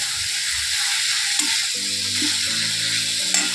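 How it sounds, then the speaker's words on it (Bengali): Spices and green chili frying in a covered pan with no water, giving a soft, steady sizzle and a few faint clinks and tones in the background, and no voices. "এবার আমি এটাকে ঢাকা দিয়ে দিয়ে ভাজতেই থাকবো"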